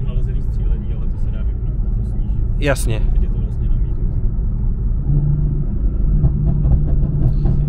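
A BMW M4 rumbles low and steady from inside the car while driving carefully in poor conditions, a brief short word spoken over the continuous engine drone.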